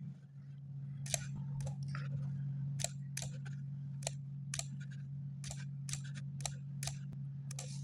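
Fingers tap out a username on a phone's touchscreen keyboard in the JCB Livelink mobile app, a steady run of sharp, close taps over a constant low electrical hum.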